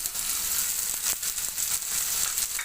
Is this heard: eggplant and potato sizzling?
yes